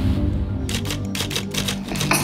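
Rapid clacking keystrokes of a typewriter, close and crisp, coming in quick irregular bursts over a low background hum.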